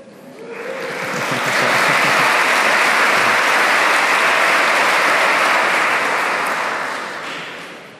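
An audience at a lecture breaks into applause, swelling quickly to a full, steady wash of clapping that holds for several seconds before tapering off.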